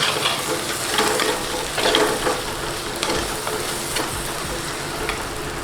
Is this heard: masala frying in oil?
yes